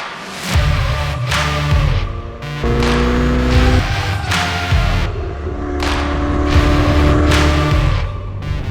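A Ferrari F8 Tributo's 3.9 litre twin-turbo V8 drones and rises through several loud, close revving pulls while the car drives, with a deep rumble under the engine tone and no speech.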